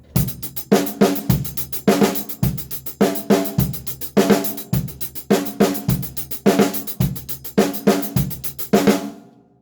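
A full drum kit plays a steady repeating groove, loud and close, with an extra snare stroke added on the E of beat four. The rhythmic kick, snare and cymbal pattern loops for the whole passage with no talking.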